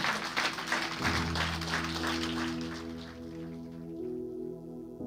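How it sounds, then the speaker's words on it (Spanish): A church congregation applauds during a sermon, with a dense burst of clapping at the start that thins and fades over several seconds while a sustained organ-like tone comes in underneath. "Dele un aplauso"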